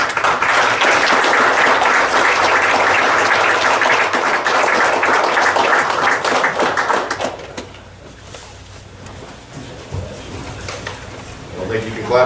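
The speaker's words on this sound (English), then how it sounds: "I don't think you can clap enough." A crowd at a city council meeting applauds an honored guest with loud, sustained clapping for about seven seconds before it fades to quieter room sounds and a few scattered claps.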